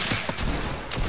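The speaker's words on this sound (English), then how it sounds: "Alright. I shot him." Rapid gunfire from a PS4 shooter game, a dense, loud burst of overlapping shots filling the whole moment with no talk over it.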